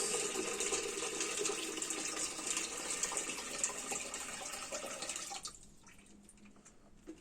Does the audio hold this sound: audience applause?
no